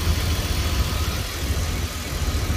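A steady, low engine hum from a 1991 BMW 520i with M50 VANOS engine idles continuously nearby, smooth and even with no voices.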